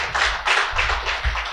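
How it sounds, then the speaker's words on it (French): Audience at a political party youth meeting claps in sustained, broadband bursts that swell roughly every half second, close and fairly loud, with low thumps underneath and no speech. "Je crois que ça s'applaudit."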